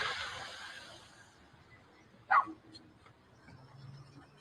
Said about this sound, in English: Where the dog at? Where the dog coming from?